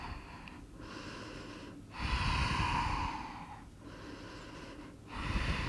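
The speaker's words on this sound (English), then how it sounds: "We're staying here and breathing." Slow, heavy breaths drawn in and out through the nose while holding a yoga pose, close and fairly loud, with a long swelling exhale in the middle and no talking.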